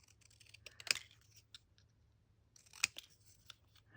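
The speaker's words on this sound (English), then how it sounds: "Just cut them up real quick." Scissors snipping through small plastic packaging pockets, two crisp close cuts with faint rustling and light clicks between them, quiet and without speech.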